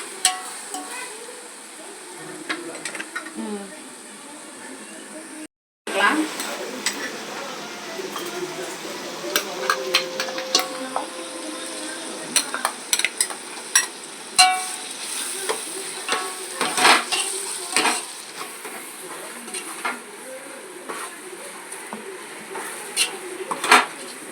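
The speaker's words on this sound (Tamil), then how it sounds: "போட்டு நல்லா வாசம் வர வரைக்கும் வதக்கிட்டு புதினா போட்டுக்கலாம்." Onions and masala for chicken biryani sauté in a pan, a soft continuous sizzle with frequent spoon scrapes and clinks against the metal, while a person talks.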